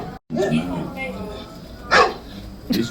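A dog barks a few short times outdoors on a street in York, the barks coming between and under a person's speech at moderate distance.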